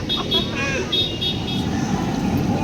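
Road vehicle horns toot several times in short repeated beeps, followed by a longer wavering honk, set over a steady rumble of passing traffic with voices in the background.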